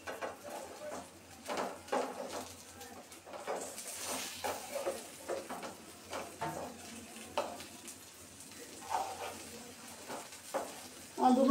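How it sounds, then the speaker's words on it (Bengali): Eggplant fritters frying in hot oil after being turned, a steady close sizzle with occasional crackles and soft utensil clinks, no talking. "উল্টিয়ে নিয়ে অপর পিসটাও ভেজে নিবে।"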